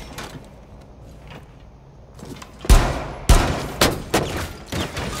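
Sniper rifle shots ring out in Rainbow Six Siege on the Bank map, several sharp loud cracks with echoing tails spaced about half a second to a second apart after a quieter lead-in.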